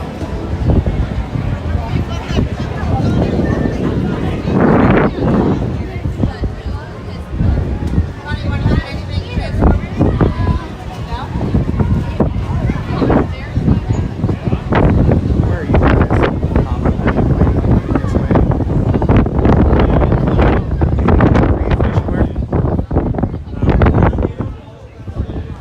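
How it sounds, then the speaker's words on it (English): Gusty wind at Universal Orlando buffets the microphone with loud low rumbling bursts while a person talks over it, the roar swelling and dropping throughout. "That wind is picking up."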